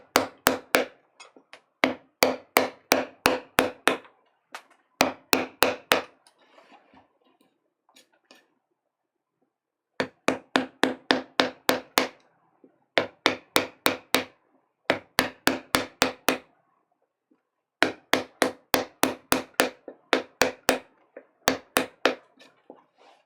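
A mallet strikes a chisel carving a woodblock for printmaking, in quick close bursts of about six to ten crisp knocks separated by short pauses, each burst with the same brisk rhythm, and no talk.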